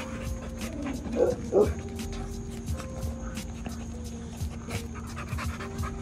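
A dog pants with quick, breathy rhythm amid background noise and people's voices nearby, with a couple of louder whimpering bursts early on.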